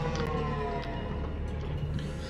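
Low oxygen warning alarm in the underwater game Subnautica, a steady, droning siren-like tone with layered harmonics that holds at an even level for a couple of seconds, alone with no talk.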